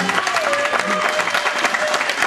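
Audience applause at the Landscove talent show in 2007: a steady, dense wash of clapping from a crowd filling the whole stretch, with faint tonal sounds underneath.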